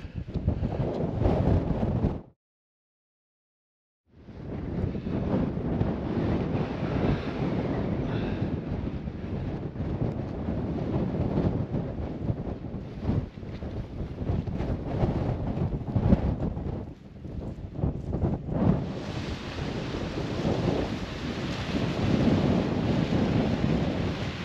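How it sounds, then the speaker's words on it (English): Strong gusts of wind on an exposed hilltop summit buffet the microphone in heavy, roaring bursts, broken by a brief silence, then the blustery rumble returns and persists. "A bit windy on the way down"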